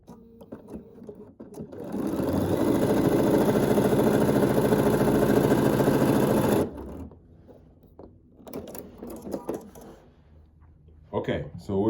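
A Bernina sewing machine stitches a quarter-inch quilt seam in one steady, close run of rapid needle chatter lasting about five seconds, then stops, with brief handling noises and talk around it.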